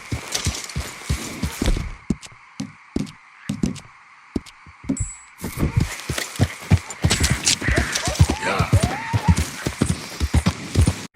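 Rhythmic hoofbeats of a horse in the video game Red Dead Redemption clop steadily over ground, first in short bursts then a continuous trot, with a faint whinny near the end.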